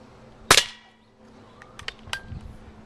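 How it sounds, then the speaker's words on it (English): Pellet gun shots hitting tin cans on a homemade target: one sharp, loud crack and metallic ring, then several lighter ticks and clinks, heard close with no talking. "the cans of course will get shot up."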